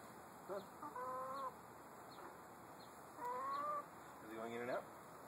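Several chickens cluck in short bursts nearby, with pauses between calls over a quiet outdoor background.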